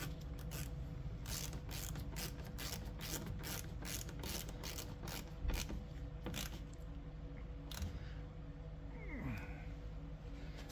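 Ratchet tightening Torx screws on a 2018 Jeep Wrangler rear door lock actuator, fast continuous clicking of the pawl, close and steady, slowing near the end.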